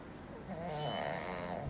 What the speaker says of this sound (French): Je me suis même endormi un bon moment pendant l'opération, j'ai ronflé.